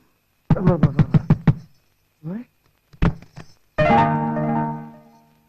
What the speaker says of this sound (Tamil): யார் என்னத்துல கதவை தட்டுறது?